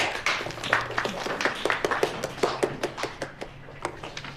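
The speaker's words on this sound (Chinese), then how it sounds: "来了个新同事，鼓鼓掌" A small group of colleagues in an office claps to welcome a new coworker, giving a few seconds of brisk, close, uneven handclaps that taper off.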